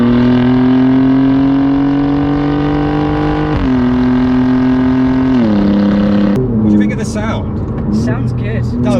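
Alfa Romeo Giulia GTA M engine accelerates hard from inside the car, a loud steady rising drone that stays strong through gear changes, with a rougher burst near the end.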